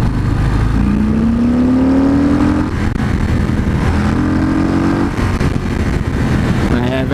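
A Harley-Davidson Breakout 114 motorcycle engine rumbles close by and revs up twice in rising surges, with a person speaking over the loud, throaty idle.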